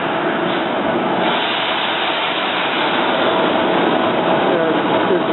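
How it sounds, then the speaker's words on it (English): An R5 commuter train to Doylestown, a five-car set led by rail car 215, rolls slowly into a station, giving a steady, loud broadband rumble throughout with no clear breaks. "the R5 to Doylestown with rail cars 215"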